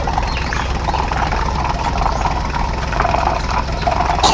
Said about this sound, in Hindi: चलो चलो ट्रैक्टर चलो जल्दी चलो।